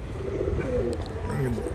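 A stamped female racing pigeon, just back from a flight, coos in low, soft rolling notes close by, mixed with background chatter and handling noise.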